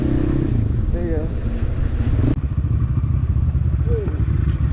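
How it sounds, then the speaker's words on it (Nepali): A motorcycle ridden on a cold, snowy road from Pokhara toward Banau, its engine droning loudly and steadily up close with wind rush, as riders talk over it. "मजा आयो बाइक चलाउन चाहिँ"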